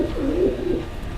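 A racing pigeon coos close by in a soft, low, rolling call that swells and fades over a moment, alone without talk.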